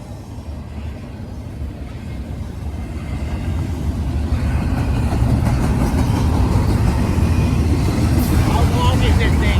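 Westbound Union Pacific intermodal freight train rolling through Benson, Arizona, a loud continuous rumble and wheel noise that grows steadily louder as the cars pass close by.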